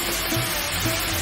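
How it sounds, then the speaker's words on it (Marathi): Vegetables tipped one by one into a hot frying pan for a festival mixed-vegetable dish, giving a steady, fairly close sizzle with faint stirring and no talk over it. "आता आपण एक एक भाज्या टाकूया।"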